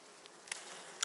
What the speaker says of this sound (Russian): Вот там пчелки молоденькие уже собрались.